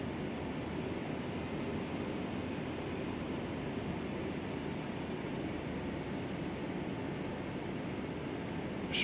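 Jet engines of a Boeing 757-300 in flight in the simulator FSX, a steady, continuous roaring drone at moderate level that holds unchanged throughout with no talk.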